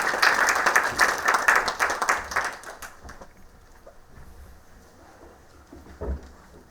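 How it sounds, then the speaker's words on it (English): Audience applause for a conference speaker at the Food Systems Dialogue India 2023 inaugural session, a dense burst of clapping for about three seconds that fades to a low murmur, with a brief thump near the end. "Please give him a big round of applause"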